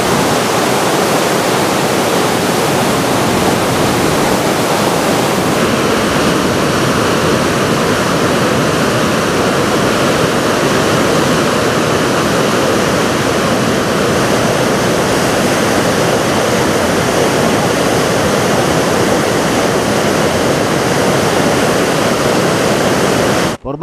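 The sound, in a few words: rushing floodwater of a swollen river at a bridge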